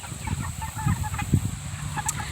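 Meat chickens in a movable chicken tractor on pasture cluck softly and continuously, several birds close by, with scattered low calls and a brief higher chirp near the end.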